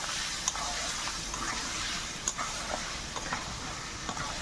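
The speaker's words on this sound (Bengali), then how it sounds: "1 চামচ লঙ্কার গুঁড়ো দিয়ে দেবো। ভালো করে নাড়তে থাকবো।" Mango pickle with chili powder is stirred in a pan, a soft continuous sizzle broken by a few light clicks of the spoon against the metal, close by and with no talking.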